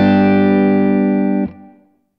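A distorted electric guitar lick, a loud, rich sustained tone ringing alone with effects before being damped and decaying away.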